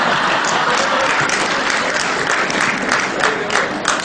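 An audience at a Hindi committee cultural event breaks into loud, sustained clapping from a sizeable crowd, dense and continuous throughout.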